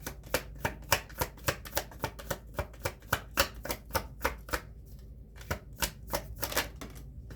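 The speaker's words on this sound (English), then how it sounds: "Let's get another card." Playing cards being shuffled and drawn, a rapid run of crisp snapping riffles and flicks in a steady rhythm with a short pause near the end, close and clear with no talking.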